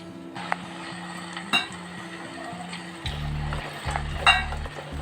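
Melted jaggery being stirred into jackfruit payasam in a pan, with soft sizzling and intermittent metal spoon scrapes and clinks against the pan, close up with no voices.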